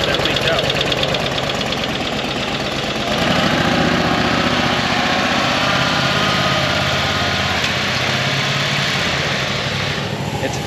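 An engine idles steadily after sitting unused for six weeks in ice-cold weather, a loud, rough, continuous rumble with a rapid pulsing beat, close to the microphone.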